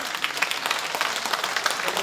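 Audience clapping at a talk concert marking the second anniversary of a city mayor's term, a dense, even patter of many hands at fairly close range throughout.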